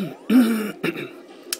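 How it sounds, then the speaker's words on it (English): A man clears his throat once, close and fairly loud, with a short gruff burst followed by a smaller second rasp and a faint click. "I didn't clear my throat there."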